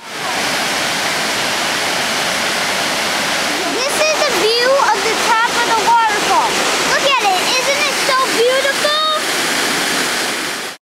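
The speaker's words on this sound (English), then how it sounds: "we're going to check out the waterfall" Brandywine Falls waterfall on a hiking trail roars steadily and loudly throughout, a continuous rushing wash of falling water, with people talking over it in the middle stretch.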